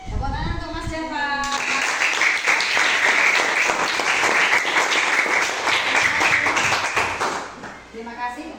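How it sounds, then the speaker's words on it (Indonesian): A classroom of students claps for their class leader at an Indonesian school session, a brief voice at the start, then several seconds of lively close-up clapping that tapers off as a voice returns. "Tepuk tangan untuk Mas Java."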